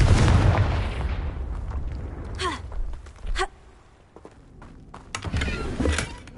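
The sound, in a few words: Confringo explosion spell blast in Hogwarts Legacy video game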